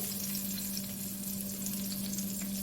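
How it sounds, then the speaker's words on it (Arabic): Onion pieces frying in a little oil in a pan for sweet and sour chicken, giving a steady, close, even sizzle that runs unbroken throughout with no voices. "هدي للبصل الاول كده تشويحه، انا مش عايزاه يدبل"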